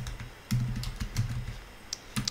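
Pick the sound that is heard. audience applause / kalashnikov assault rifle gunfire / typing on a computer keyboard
typing on a computer keyboard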